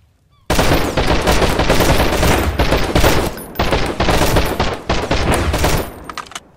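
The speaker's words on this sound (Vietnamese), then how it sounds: "Máy này nó bắn tầm xa quá anh em" Rapid bursts of gunfire from a long-range gun turret in the survival game Sunkenland, loud, close and nearly continuous for about six seconds after a brief quiet start.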